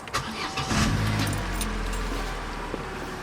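A Vauxhall Corsa fitted with a performance air filter cranks and fires up, the engine catching with a brief rev before settling into a steady idle, close and loud.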